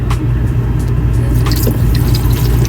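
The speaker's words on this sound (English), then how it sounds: "Let's dump the water." Boiling water poured off cooked noodles outdoors at an off-grid RV site, a continuous loud gushing splash with low rumbling, ending in a few sharper splatters.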